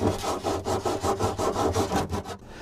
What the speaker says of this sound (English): ABS pipe is easily cut with a common hacksaw